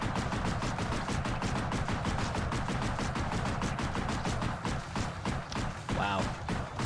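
Rapid gunfire in the video game X-Blades at the Observation Site, dense repeated shots in a fast steady rhythm like a machine gun, loud and close, briefly easing before resuming.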